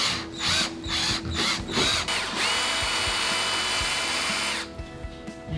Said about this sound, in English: I was drilling out the other scary holes.